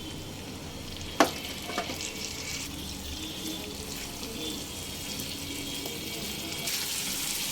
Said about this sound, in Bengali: আলু খুব ভালোভাবে মিশিয়ে নেবার পর এবার দিয়ে দেব দুই টেবিল চামচ গরম জল